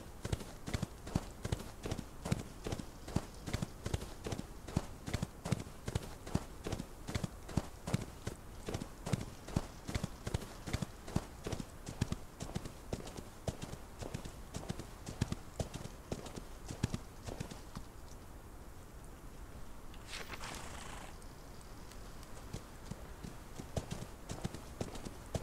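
Horse hooves clip-clop steadily in a fast, regular rhythm while riding in the Old West video game Outlaws of the Old West, loud and close, easing briefly near the end before resuming.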